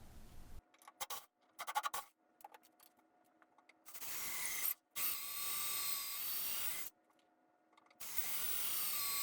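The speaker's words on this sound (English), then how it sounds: "Using a 5/8 inch auger bit, I drill down through the jig." A 5/8 inch auger bit drills down through a jig into wood for a floating shelf, giving bursts of scratchy, grinding boring that start and stop several times, with quieter ratcheting clicks between the longer drilling runs.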